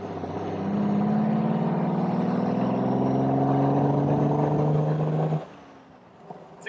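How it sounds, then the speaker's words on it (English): An Alvis 4.3L Vanden Plas Tourer engine and exhaust drone steadily under load with a rising tone, then the note cuts back sharply to a quieter idle-like rumble near the end. "it's got quite a nice exhaust note"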